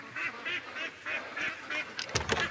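Ducks on a homestead quacking in a rhythmic series of nasal calls, fairly close and moderate in level, followed by a brief burst of louder, harsher honking squawks at the end.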